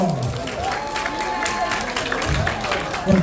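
Applause from the audience at a year-end awards ceremony for community groups, a moderate spread of clapping with some crowd murmur and voices mixed in.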